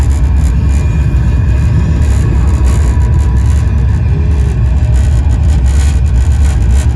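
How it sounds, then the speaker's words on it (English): A simulated rocket launch on the Epcot Mission Space ride, a loud, continuous low engine rumble that holds steady and close without a break. "We have main engine start. 5, 4, 3, 2, 1. Lift off."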